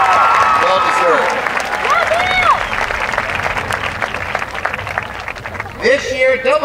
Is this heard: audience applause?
yes